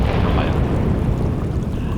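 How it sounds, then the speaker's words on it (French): Deep, continuous rumbling roar of volcanic gas venting from the earth, loud and close, with a slight swell at the start and a brief hint of a voice in the background. "C'est le grondement du gaz."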